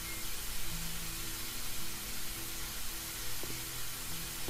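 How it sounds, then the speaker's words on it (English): Steady hissing spray from a pressure washer cleaning the outside of a gothic-style house in a video game, a continuous broadband wash of noise with a low hum beneath it and no pauses. "And we can spray the outside."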